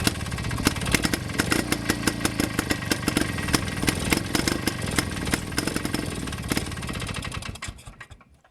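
A Villiers 9E engine on a Pengor Penguin runs roughly up close, its loud uneven firing clattering steadily for several seconds before it falters and dies away near the end, with no talking.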